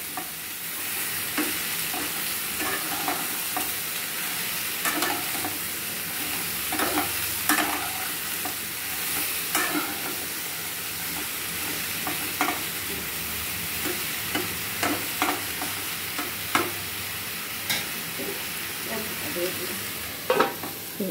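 Gourd and potato pieces, seasoned with salt and turmeric, are turned in a hot wok, giving a steady sizzle with repeated scraping and knocking of the spatula at an irregular rhythm, close and fairly loud.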